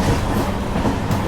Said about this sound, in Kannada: ಇದು ನಮ್ಮ ಭಾರತೀಯ ರೈಲ್ವೆ